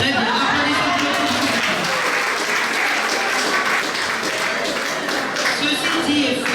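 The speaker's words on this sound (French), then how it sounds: "Applaudissez pour le" Wedding guests at an official marriage ceremony applaud in a steady, dense burst that fills the whole stretch, with a few voices and light laughter mixed into the crowd noise.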